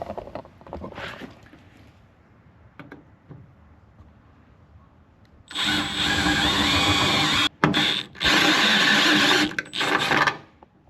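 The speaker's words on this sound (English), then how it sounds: "then we got to use a 7/8 inch stepped drill bit" A harsh, loud grinding whine of a 7/8 inch step drill bit enlarging a hole in the metal of a Mercedes Sprinter van starts after a few quiet seconds, running steadily with brief pauses.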